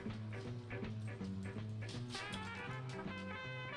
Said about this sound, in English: it's Charlie the dog.